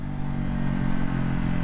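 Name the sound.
wind noise in the microphone while riding outdoors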